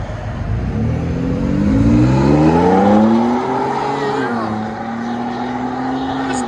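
A 2022 Ford F-150 EcoBoost turbo with Carven R-Series dual exhaust revs up and settles, its note rising and falling across several seconds, loud and close.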